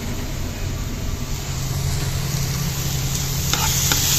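Spice paste for a banana flower curry sautéing in a pan, a continuous close sizzle and stirring scrape with a few sharper utensil clicks toward the end, no voices.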